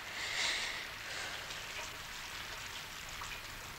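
Soft, steady rain patters and hisses, fairly faint, with a brighter splashy swell near the start and no voices.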